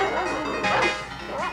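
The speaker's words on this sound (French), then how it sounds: "Écoute, ils ont lâché les chiens." Hunting dogs released in a wood yip and bark in quick, rising howls, loud and fairly close, in a short burst.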